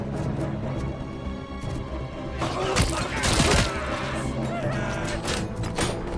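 Gunfire in the RoboCop video game, a burst of rapid cracking shots with impacts in the middle, loud against ongoing game noise, with a voice talking over parts of it.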